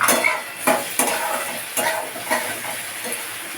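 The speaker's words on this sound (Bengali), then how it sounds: "টমেটো কুচিটা একটু নাড়াচাড়া করি পেঁয়াজের সাথে" A spoon scrapes and stirs chopped tomato frying with onions in a pan for chicken curry, with repeated scraping strokes over a steady frying hiss.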